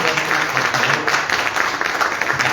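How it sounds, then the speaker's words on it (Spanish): Steady applause from an audience for a round-table panel, dense and sustained throughout, with faint voices mixed underneath. "Un fuerte aplauso para ellos."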